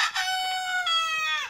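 A Sonali desi rooster on a free-range farm crows once, loud and close, in a long drawn-out call that slides down at the end.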